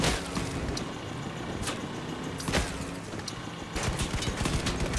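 The Summator nailgun fires in a video game battle: dense, loud bursts of rapid weapon shots with a few sharper cracks over a constant noisy backdrop, no talk.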